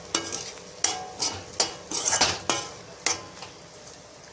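Ivy gourd being stir-fried in a pan, a utensil repeatedly scraping and clinking against the metal in sharp irregular strokes over a faint sizzle, heard up close.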